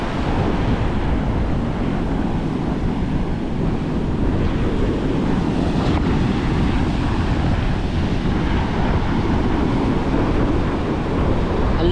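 Sea waves wash steadily onto the shore near a river mouth, a continuous loud roar of surf mixed with gusting wind buffeting the microphone throughout, with no talking.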